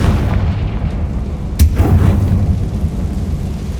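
A Confringo blasting spell goes off in Hogwarts Legacy, a single sharp explosive crack with a rumbling tail over low, continuous game ambience.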